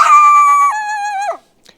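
A trapped coyote howls up close and loud, one sustained wavering howl that bends lower partway through and cuts off, followed by brief quiet.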